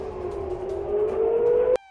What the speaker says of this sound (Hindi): शहर में घंटों सुने गए अलर्ट सायरन।